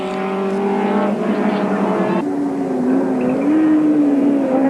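Modified race cars, including a Toyota and a Ford, race at Goldfields in a 1993 Wesbank Modifieds round. Engines drone loudly with shifting pitch, one sharp change as a car shifts or passes, under a voice.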